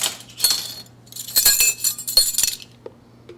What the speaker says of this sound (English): I think I'm going to go to the wire whisk now to get these incorporated